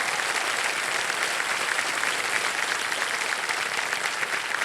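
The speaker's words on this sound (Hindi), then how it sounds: "तालियां बज जाए।" Studio audience applause on a televised quiz show, a steady, loud wash of many hands clapping continuously for several seconds with no talk over it.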